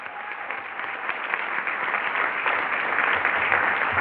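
Audience applauding for Tony at a multicultural leadership day opening session, a steady, dense round of clapping that swells slightly toward the end.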